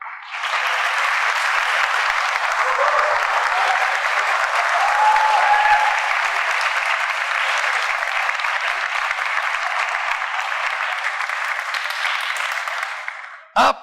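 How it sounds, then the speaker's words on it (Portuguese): Loud, sustained applause from a church audience at a graduation ceremony, a dense wash of clapping that runs steadily for about thirteen seconds before stopping abruptly. "Podem aplaudir."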